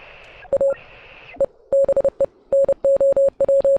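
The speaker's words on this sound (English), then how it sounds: "So this would be the Morse code signal that Anna is sending." Rhythmic beeps of a Morse code radio signal picked up on a tuned handheld radio in the video game Oxenfree, a clean steady tone keyed in short and long bursts over soft static hiss.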